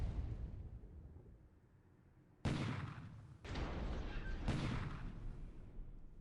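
Ships' gunfire in a WWII submarine video game, a quiet rumble broken by a sudden loud blast that gives way to a sustained roaring barrage with further heavy bursts, and no voices.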